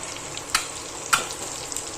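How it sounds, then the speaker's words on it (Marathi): Boiled eggs fry in a pan with red chilli and coriander spice, a steady close sizzle punctuated by two sharp crackling pops. "तर हे अंडी याच्यामध्ये फ्राय करून घ्यायचे"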